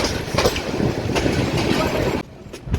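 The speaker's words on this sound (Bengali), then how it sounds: "ঢাকা থেকে সিলেটের মধ্যে চারটি ট্রেন চলাচল করে তার মধ্যে এটি হচ্ছে জয়ন্তিকা এক্সপ্রেস" The Jayantika Express passenger train runs on the Dhaka–Sylhet route with loud, close rolling clatter from its cars. The rushing noise drops off sharply near the end.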